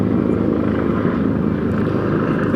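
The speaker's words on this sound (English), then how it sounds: "That helicopter is literally right on top of us." A helicopter hovers directly overhead at an outdoor bowls match, giving a loud, continuous rotor drone that fills the whole stretch with no speech over it.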